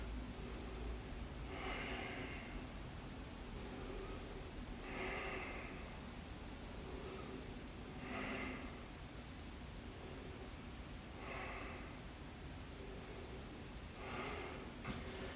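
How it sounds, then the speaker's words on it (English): Slow, deep breathing during a quick yoga stretch: soft airy breaths recurring about every three seconds, quiet and close over a steady noise floor. "We'll stay here and breathe."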